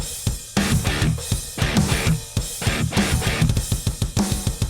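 A heavy, distorted guitar riff chugs in a syncopated rhythmic pattern with punchy drums, loud and dense, no talking.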